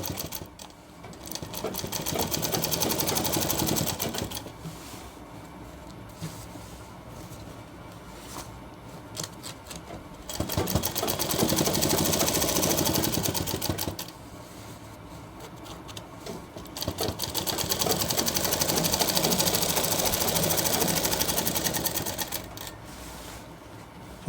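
A sewing machine stitches the seam of a shirt front in three loud, steady bursts separated by quieter pauses, with light handling noise between runs.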